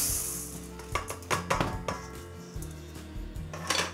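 Half-cooked, oven-dried rice is tipped into a container, giving a series of light rattling clinks and scattered hard-grain knocks in irregular bursts, close by and fairly quiet.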